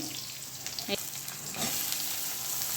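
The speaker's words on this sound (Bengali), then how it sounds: "কালো জিরে পেঁয়াজ কাঁচা লঙ্কা তেলে দিয়ে একটু ভাজা ভাজা করে যে বেগুনগুলো দিয়ে দিলাম" Eggplant pieces sizzle in hot oil with nigella seeds, onion and green chilli, a soft, steady frying hiss at low level with a few faint stirring clinks and no voices.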